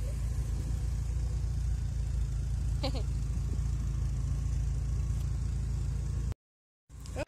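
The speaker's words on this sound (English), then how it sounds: "This is the Porsche." An old Porsche car's engine runs steadily with a constant low rumble close by, broken near the end by a brief cut to silence before resuming.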